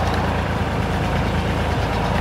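A farm tractor engine idles nearby on a muddy clay road, a loud, steady low rumble with no speech.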